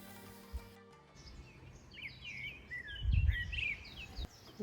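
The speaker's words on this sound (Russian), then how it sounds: "Тишина такая, и птицы поют." Birds sing at a quiet bay near Cartaromana Beach on Ischia, Italy: several bright chirps and warbled phrases, fairly near but soft, over a hushed outdoor background with a few low thumps.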